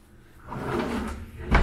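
A drawer in a bathroom sink vanity slides open and shut close by, a short rolling scrape ending in a soft knock, with no talk.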